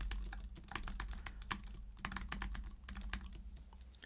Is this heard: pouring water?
no